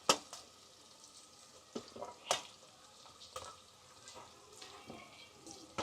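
Potatoes and mixed vegetables go into a hot pan of oil, sizzling softly under repeated scraping stirs and a few louder clanks of the spoon against the pan.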